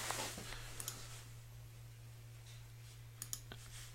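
A computer mouse clicks a few times while working in Google Drive, with soft sharp taps near the start and again near the end over quiet room hum.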